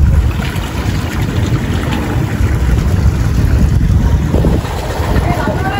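A motorboat engine drones steadily and loudly as it pushes a boat damaged in a collision with a ship toward a dock, with wind buffeting the microphone and water noise throughout.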